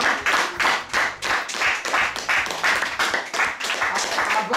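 A church congregation claps together in acclamation at a spiritual marriage ceremony celebrating 42 years of wedlock. The rhythmic, steady hand claps come in regular beats, fairly close and sustained throughout.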